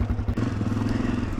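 A motorcycle engine revs steadily under a wheelie attempt, a close, loud low rumble with a short thump near the start and a rhythmic pulsing drone throughout.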